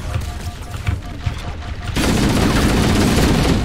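Gunfire in a multiplayer shooter video game: after a quieter stretch of game ambience, a loud, dense, continuous burst of shots fills the second half.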